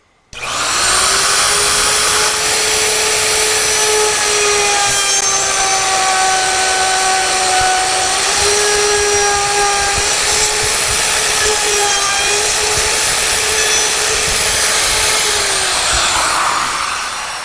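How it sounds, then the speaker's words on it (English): A power router cuts a recess in wood for a butt joint, starting abruptly into a loud, steady high-pitched whine with slight pitch shifts as it bites, close and continuous until it winds down. "Then this is to take the router and start routing it out."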